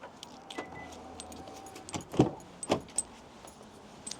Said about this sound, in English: I'll unlock the car first.